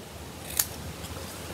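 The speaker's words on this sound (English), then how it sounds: "scissors and you can make those ends just like that." Scissors trim the end of a die-cut card piece with a single crisp snip, sharp and close against a quiet room background.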